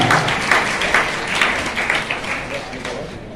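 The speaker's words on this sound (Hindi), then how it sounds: "जोरदार तालियों के साथ में आपका अभिनंदन है" Applause fills a hall at a talent felicitation ceremony hosted by a legislator, a steady, dense wash of clapping from the audience with a voice speaking over it throughout.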